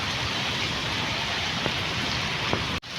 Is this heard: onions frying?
no